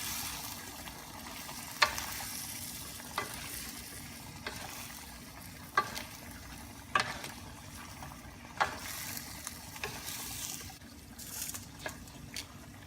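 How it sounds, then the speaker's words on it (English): Pansit bihon rice noodles tossed with soy sauce in a hot pan, a steady low sizzle broken by scattered scraping clicks of the utensil, close up with no talking. "Give it a good stir again."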